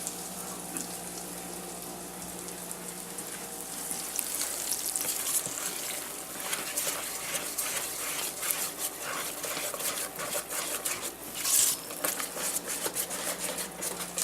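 Cornbread dressing batter poured into a pan of hot bacon grease, sizzling and frying steadily for several seconds, with stirring and a brief louder burst of crackle toward the end; no talking.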